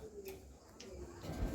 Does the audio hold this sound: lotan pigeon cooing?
yes